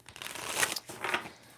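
Tarot cards shuffled by hand during a love reading, a short papery riffle of two quick bursts, close and moderately quiet, with no talking.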